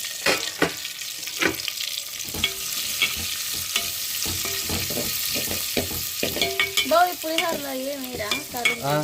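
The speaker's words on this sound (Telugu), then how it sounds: "ఉల్లిపాయలు పచ్చిమిరకాయలు వేసేసుకొని బాగా వేయించుకోవాలి" Onions and green chillies fry in a pan, a close, continuous sizzle broken by repeated clattering scrapes of a spatula stirring, with squeaky scraping strokes toward the end.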